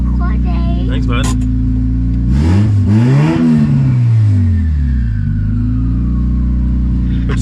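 A turbocharged Honda Civic engine idles loudly up close, then revs sharply, rising and falling in pitch before settling back to a steady idle, with brief talk nearby.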